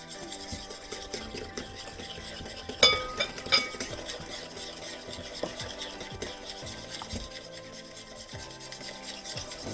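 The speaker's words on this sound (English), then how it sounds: "Basically creaming the eggs and the sugar together here." Eggs and sugar being creamed together in a bowl, with a continuous rough rubbing and scraping of the utensil against the bowl, close and moderately quiet, with a couple of brighter clinks early on.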